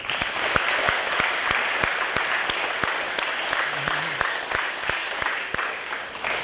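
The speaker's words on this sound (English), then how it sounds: "Let's give her a big round of applause." Audience applause for a children's librarian at a children's reading event, steady clapping from a room full of people that holds loud and even across the whole stretch, with sharp individual claps standing out in a regular rhythm.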